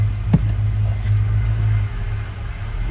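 A 1967 Chevrolet Impala SS convertible rolls down the road, its engine giving a steady low drone with a soft tick near the start, heard from inside the car with road noise underneath.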